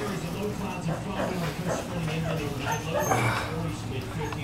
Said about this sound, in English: Are you barking at me?